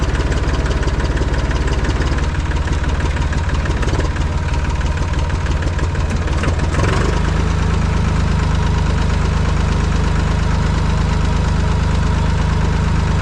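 A Massey Ferguson 245 tractor engine runs steadily with a knocking, throbbing idle. It is loud and near throughout, and the tone shifts and settles partway through, with no talk over it.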